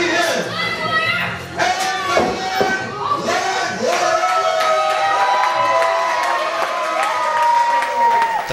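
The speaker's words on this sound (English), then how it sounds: "this crowd is extremely loud" A loud indoor crowd at an IWA Productions wrestling event cheers, shouts and claps continuously, with whistles and excited voices rising over a dense roar throughout.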